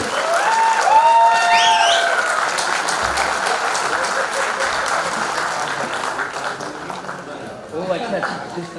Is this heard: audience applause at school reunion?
yes